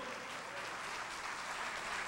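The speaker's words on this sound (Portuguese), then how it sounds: "aplauda ao Senhor" A church congregation at a Portuguese-language evangelical service claps together in praise, producing a thick, continuous wash of applause at an even level throughout.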